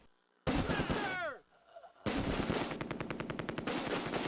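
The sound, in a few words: machine gun fire in the video game Close Combat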